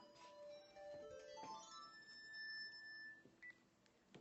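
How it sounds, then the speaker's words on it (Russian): A work phone ringing indoors, its electronic ringtone of high beeping tones repeating through the clip at moderate, close level over a soft room background. "пугает меня, когда мне звонит рабочий телефон."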